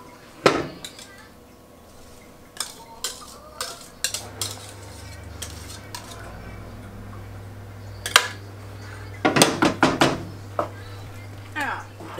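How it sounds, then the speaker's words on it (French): A utensil knocks and scrapes against a bowl while ingredients are mixed, producing scattered clinks and taps in irregular bursts over a faint steady hum. "Et puis je vais bien tout mélanger."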